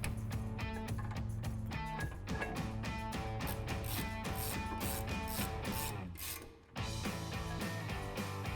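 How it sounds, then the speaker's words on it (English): A ratchet and socket tighten brake caliper bolts on a 2019-2024 Chevrolet Silverado 1500 during a brake rotor and pad job, a continuous rapid clicking rasp with a brief dip before it resumes, with no talking. "we're gonna grab our ratchet and socket and tighten them up."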